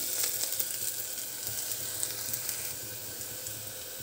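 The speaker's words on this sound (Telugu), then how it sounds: "నేను ఆయిల్ కొంచెం వేసాను కదా, అలాగే మీడియం ఫ్లేమ్లో పెట్టాను, అలాగే నిదానంగా వేగుతున్నాయి" Onions slowly frying in a little oil over a medium flame for country-chicken curry: a soft, even sizzle with light crackle, fairly quiet and continuous, with no speech.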